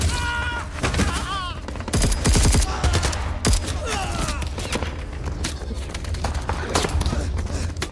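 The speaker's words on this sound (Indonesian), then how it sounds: "aksi baku tembak pun gak bisa dihindarkan" Film gunfight between soldiers and rebels during a hostage rescue, with loud, close volleys of rapid gunshots and booming impacts over a continuous tense soundtrack, voices and shouts mixed in.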